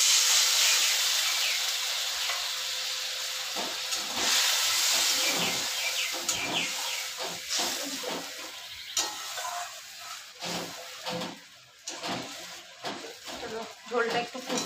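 Fish curry gravy bubbles and simmers in a pan, giving a steady hissing, steamy sizzle with irregular popping bursts throughout, loud and close, with a voice speaking over it.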